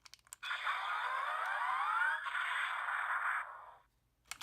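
Engine-Oh toy from Engine Sentai Go-Onger, its Highway Buster firing a faint electronic whooshing blast with a rising sweep that holds for about three seconds before cutting off, framed by small clicks.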